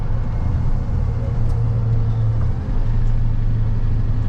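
A smaller box truck rolls along a road, its engine a steady low drone with road rumble throughout, fairly close and continuous, no voices.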